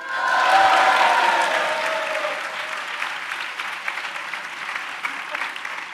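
A crowd in Valladolid bursts into applause with some cheering, loud at the start and then settling into steady, scattered clapping that continues throughout.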